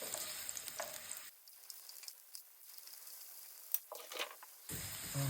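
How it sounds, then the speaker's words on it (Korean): Garlic sautéing in oil over medium heat in a pan, a soft continuous sizzle that thins out in the middle and swells back with light stirring scrapes, close and moderately quiet. "그래서 중불 정도에서 이렇게 마늘을 살짝 겉에가 노란기 날 때까지 볶아줄 거예요."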